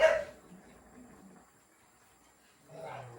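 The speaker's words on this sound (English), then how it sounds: "my dogs are acting up over there." Dogs acting up in the background of a home kitchen, with short bursts of barking and yipping at the start and again near the end, fairly faint and distant between quieter moments.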